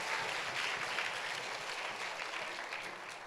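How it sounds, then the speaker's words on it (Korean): A church congregation applauds during a Thanksgiving Sunday worship service, a dense, even wash of many hands clapping together that holds steady throughout, slightly distant and alone. "우리 하나님께 큰 박수로 한번 같이 감사의 박수를 올려드리면 좋겠습니다"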